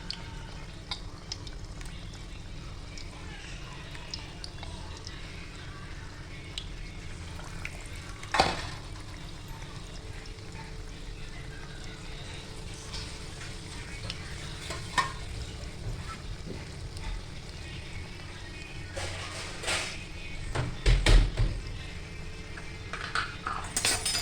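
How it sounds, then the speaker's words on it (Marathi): Green amaranth leaf fritters (bhaji) frying in hot oil, a soft continuous sizzle and bubbling with occasional louder stirring clatters near the end, no talking. "आणि ते तळायला टाकूया."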